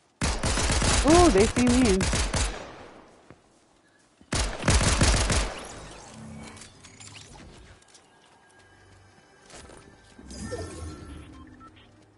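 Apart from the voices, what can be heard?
gunfire in the video game Fortnite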